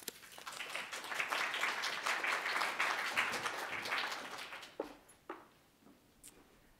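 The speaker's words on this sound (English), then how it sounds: "Let's give her a round warm applause" Audience applause for a reader at a flash fiction reading night, a steady wash of clapping that fades out with a few last scattered claps.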